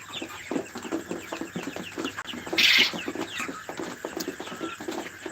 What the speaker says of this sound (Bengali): সবগুলো মুরগি কিন্তু সুস্থ আছে আলহামদুলিল্লাহ